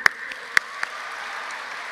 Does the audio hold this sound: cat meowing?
no